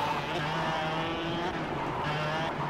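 Go-kart drifting in the KartKraft racing simulator, with tires skidding under a steady, loud engine drone that holds through the whole stretch.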